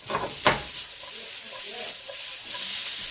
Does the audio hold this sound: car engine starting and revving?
no